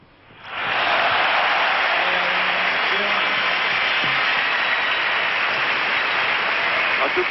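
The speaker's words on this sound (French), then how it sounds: "il mérite d'être applaudi" Applause from a tennis crowd after a German player wins a service game, a dense steady roar of clapping that swells in within the first second and then holds loud and even.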